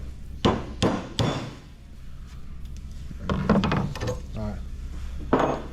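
A hammer gives several sharp taps, seating a bushing into the A-arm of an RZR 200 during an A-arm replacement. The strikes are close and distinct, with a pause between them, and a voice speaks softly between them.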